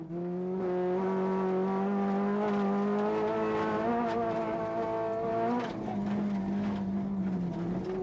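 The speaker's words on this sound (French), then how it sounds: "On va écouter le son, ce que ça donne avec un silencieux en moins." A loud, throaty rally car engine with one muffler removed drones steadily with strong harmonic tones, rising slightly in pitch near the middle and settling again, with no talk over it.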